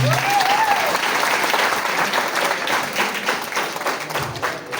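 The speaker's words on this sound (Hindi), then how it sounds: "इस सजावट के लिए, इस साज सज्जा के लिए एक बार जोरदार ताली आप लोगों के लिए।" Audience applause at a college Teacher's Day celebration in Dantewada, a dense, steady wash of many hands clapping that carries on for the whole stretch, with a brief whistle-like tone near the start.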